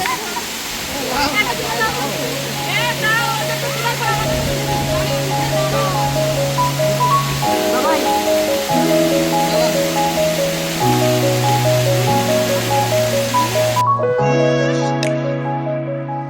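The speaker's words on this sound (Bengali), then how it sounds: "অযোধ্যা পাহাড়ের অন্যতম সুন্দর জলপ্রপাত হলো বামনি ফলস।" Bamni Falls in the Ajodhya Hills of Purulia cascades about 150 feet, a steady broad rush of water heard under music throughout.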